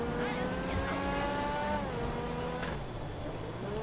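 A Lamborghini Aventador engine in GTA 5 hums steadily and loudly, its pitch rising and shifting as it accelerates smoothly, with a brief whoosh partway through.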